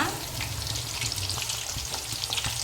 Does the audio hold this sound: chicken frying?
yes